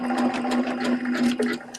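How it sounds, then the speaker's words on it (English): A sewing machine running steadily while sewing beads and pearls onto a project, finishing with a lock stitch at the end of a seam; a continuous close, even mechanical hum with rapid stitching texture throughout. "I'll ask for a lock stitch."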